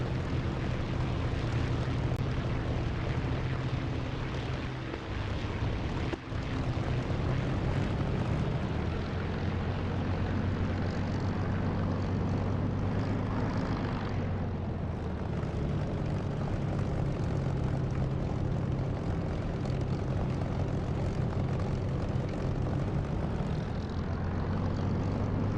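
An aircraft in a flight simulator game drones steadily through its takeoff, a loud, continuous engine roar with a faint click partway through, heard alone without talk.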